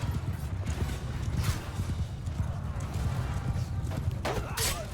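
Cavalry horses charging in Mount & Blade II Bannerlord, a dense steady drumming of many hooves in a battle, with low rumbling under a faint voice and a few brief sharper clatters near the end.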